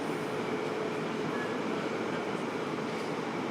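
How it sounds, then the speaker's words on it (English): Trains rumble through Tachikawa station in a steady, broadband wash of wheel and carriage noise that holds level throughout, with faint squeals and a brief high tone riding over it and no voices. "So you got trains down there."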